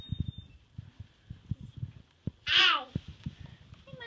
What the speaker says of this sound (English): The nicest cat.